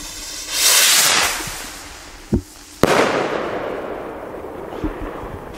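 A BS-410 firework rocket whooshes upward with a rising hiss, then a sharp crack and a loud bang burst out as a small break, followed by crackling that fades away.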